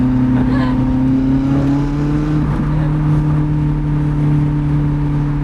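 Steady engine drone from inside a Lotus Elise sports car on a Swiss country road, a constant low hum with a faint rising tone, loud and continuous throughout with no talk.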